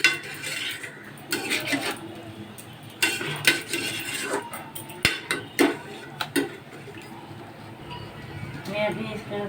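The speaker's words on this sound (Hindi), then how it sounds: "इसको मिक्स कर देते हैं" Eggplant and potato curry stirred in a pan, with repeated scraping and clinking of a utensil against metal in irregular bursts, heard under a voice talking.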